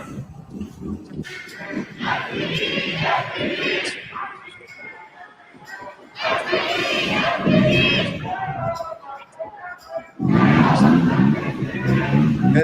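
Crowd noise at a protest in Minnesota, a loose mass of shouting and chanting voices that swells and drops in bursts, with loud stretches near the start, middle and end and babble of talk throughout.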